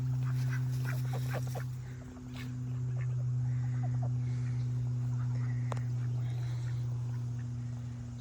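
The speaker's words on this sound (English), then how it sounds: "There's the ducks." Appleyard ducks in a backyard garden give scattered quacks over the first couple of seconds, sitting over a loud, steady low hum that runs through the whole stretch.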